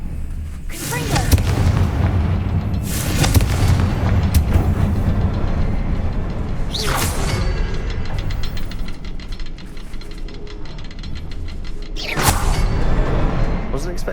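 Fiery Confringo spell blasts from the video game Hogwarts Legacy, a few loud booming bursts spaced several seconds apart over a constant rumbling game soundscape.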